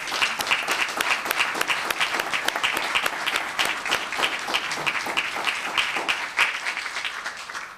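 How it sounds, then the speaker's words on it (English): Sustained applause from a crowd at a Los Gatos town council meeting, dense rapid clapping at steady loudness throughout, with no one speaking over it. "Let's give him a round of applause."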